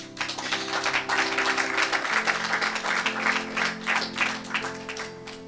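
A church congregation claps along in praise during a worship service, steady rapid applause over sustained music, dense and continuous throughout.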